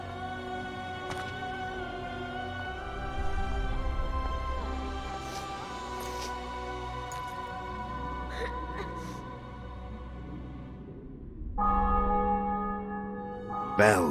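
Church bells ring out in a medieval city in The Witcher 2 after a fortress is taken, a steady layered peal with strong sustained tones and periodic clangs, sitting under orchestral music throughout.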